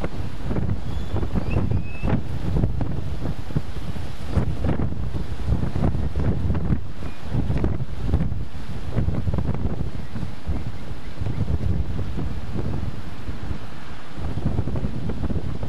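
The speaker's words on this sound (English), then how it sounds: "It's really windy." Strong wind buffets the microphone on a boat, a loud continuous roar with gusty low-frequency bursts, and water and surf wash underneath it throughout.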